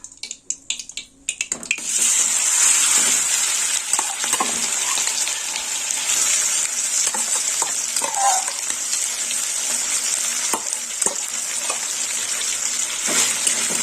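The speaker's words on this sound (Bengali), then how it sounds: "ঘি গরম হয়ে গেছে আমি হলুদ বাটাটা দিয়ে দেবো" Turmeric paste hits hot ghee with a strong, bright continuous sizzle, joined by scraping stirs and occasional utensil clinks.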